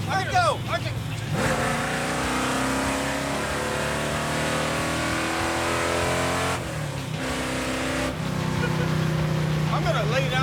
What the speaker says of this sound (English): I'm gonna lay down some RPM.